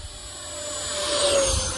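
A Freewing F-22 64mm EDF model jet flies at full throttle, its ducted fan giving a steady rushing whine that swells slightly as it passes fairly near, with no talk.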